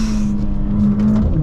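Mercedes-Benz CLA45S AMG engine pulling hard, a loud, close, steady droning roar heard from inside the cabin.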